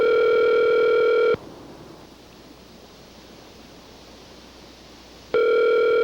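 A telephone dial tone from a phone left off the hook: a steady, loud, close electronic hum that cuts out for about four seconds of hiss and then returns unchanged.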